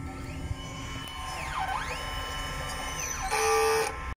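An inkjet printer runs its head-cleaning cycle: steady motor whirring with rising and falling pitch sweeps, then a louder mechanical buzzing burst before it stops abruptly, close by and alone.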